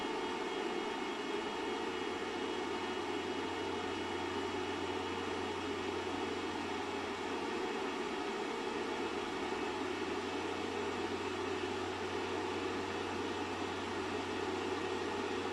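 A steady, even whirring hum of a running 1000-watt microwave oven fan on a narrowboat, continuous and unchanging throughout, with no voices.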